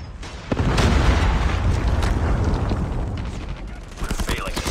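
A predator missile explosion in the mobile shooter Call of Duty Mobile, heard as a continuous heavy roar of booming blasts and crackling gunfire that stays loud and dense for several seconds.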